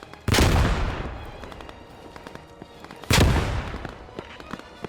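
Two loud, close grenade blasts in the World War II shooter Squad 44, about three seconds apart, each a sharp boom trailing into a long rumbling decay with faint distant gunfire beneath.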